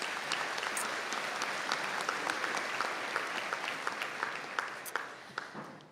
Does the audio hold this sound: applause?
yes